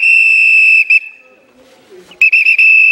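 A coach's whistle at a football drill sounds in long, shrill, loud blasts: one sustained blast and a brief chirp, a quiet gap, then a fresh burst of short choppy toots running into another sustained blast.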